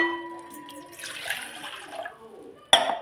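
Water runs from a tap into a cooking pan for tea in a home kitchen, a soft hissing splash lasting a couple of seconds after a brief tonal hum, ending with a sudden louder gush.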